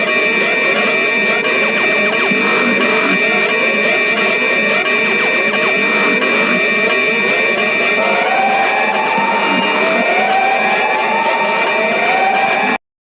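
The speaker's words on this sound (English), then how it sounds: "Warning, this dumb alarm will be loud" A loud, dense electronic alarm blares continuously, layered with harsh sustained tones and warbling synthetic sounds, with rising swoops near the end.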